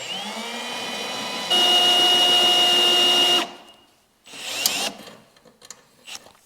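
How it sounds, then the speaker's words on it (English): A power drill whines at steady speed drilling a pilot hole in metal on a wrecked Mitsubishi 3000GT Spyder, rises sharply in pitch and loudness for a couple of seconds, then stops, followed by short scraping bursts. "Let me drill that pilot hole a little more."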